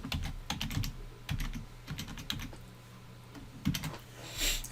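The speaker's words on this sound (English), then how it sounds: "So I'm going to key in my password now." Quick bursts of keystrokes on a computer keyboard as a password is entered, irregular clicks close up and fairly quiet, with no voices.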